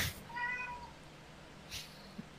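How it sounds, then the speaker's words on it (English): A single cat meows once, a short clear tonal call near the start, followed by quiet background with a couple of faint soft knocks and no talk. "And with the sound of that cat, Onan knows it is time for her to enter."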